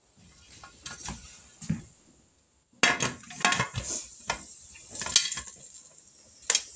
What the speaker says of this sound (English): So we're going to put the lid on there.